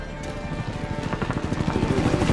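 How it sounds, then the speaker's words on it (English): Helicopter in the Call of Duty Modern Warfare video game, a steady rapid rotor thump building slightly louder over a dense engine drone, with no talk. "Helicopter."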